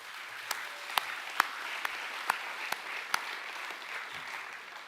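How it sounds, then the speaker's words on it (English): Scattered hand claps from an audience at a school academic awards evening sound faint and sparse, with a handful of distinct sharp claps over a quiet hall background. "can you please give your parents a round of applause?"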